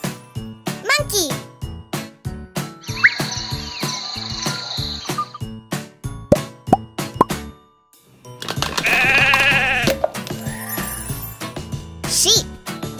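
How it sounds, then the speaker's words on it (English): Sheep bleating, heard as a couple of short wavering calls between bright children's voices and light tinkling sounds in a playful setting. "Sheep."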